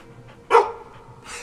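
A single short dog bark rings out clearly at moderate distance, followed by quieter faint sounds in a calm outdoor setting.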